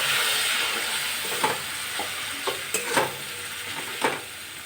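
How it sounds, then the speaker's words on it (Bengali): Kashmiri chilli powder masala with a splash of water frying in a pan for a soybean curry, a soft continuous sizzle broken by several sharp scrapes and clacks of a spoon stirring, no voices. "মশলাটা খুব ভালোভাবে কষিয়ে নেব। সামান্য একটু জল দিচ্ছি"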